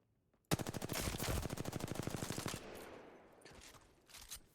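Automatic weapon fire from the Apex Legends video game: a rapid burst of about two seconds of closely spaced shots, followed by a fading tail and a few faint distant reports.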